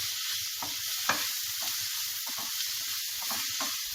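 Potato samosa filling is stirred in a hot pan, giving a steady sizzling hiss with repeated soft scraping strokes and one sharper knock, with no talking.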